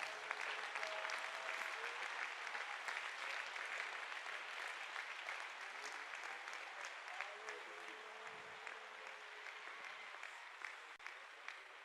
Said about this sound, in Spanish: No sé si le quiere dar un aplauso al Señor.